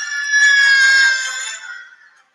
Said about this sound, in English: Just listen to Veruca scream as she falls.